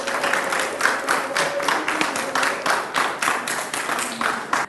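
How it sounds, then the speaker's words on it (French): An audience at an after-work concert event claps continuously to welcome the band. The applause is dense and steady and holds at a loud level from start to finish. "Sous vos applaudissements, s'il vous plaît,"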